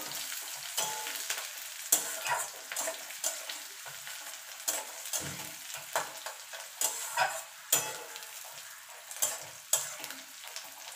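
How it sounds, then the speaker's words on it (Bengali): Chopped onions, garlic and green chilli fry with prawns in a pan, a steady soft sizzle broken by frequent scraping stirs and light utensil knocks against the pan, with no voices. "মিনিট খানিক একটুখানি ভাজা ভাজা করে নেব"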